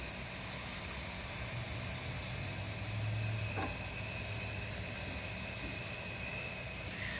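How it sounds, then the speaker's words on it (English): Asado beef strips sizzling on a grill, a steady, quiet hiss of frying fat continuing throughout, with a faint low hum in the background. "Listen to that meat sizzle."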